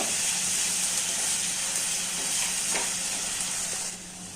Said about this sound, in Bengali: এক চামচ রসুন বাটা দিয়ে প্রথমে একটু নেড়ে চেড়ে নেব